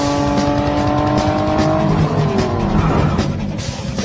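A speeding cartoon car roars loudly with an engine drone, while tires squeal in long sliding tones that bend downward partway through, and no one speaks.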